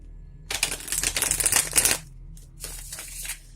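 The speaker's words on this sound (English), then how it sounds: "I feel called to shuffle these again" A deck of tarot cards shuffled briskly in a dense riffling burst for about a second and a half, then a shorter, softer second shuffle, close and clear.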